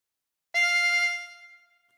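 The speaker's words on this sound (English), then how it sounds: "For phrase 11, breathe into 5." A single sustained harmonica draw note on hole 5 starts abruptly, holds steady and bright for under a second, then fades out alone.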